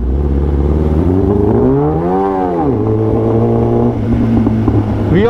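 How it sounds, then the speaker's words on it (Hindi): A Kawasaki ZX10R inline-four superbike on an Indian street, its exhaust revving up and falling back in a smooth sweeping howl, loud and close, followed by a lower steady idle and a short blip. "जो इनलाइन फोर का सिम्फनी है वो तो आप सब जानते ही है कितनी मधुर आवाज़ निकलती है इसके एग्जॉस्ट में से।"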